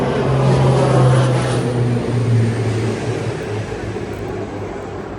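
Airplanes landing and taking off at a busy nearby airport: a loud, steady jet engine roar that fades slowly, with no voices.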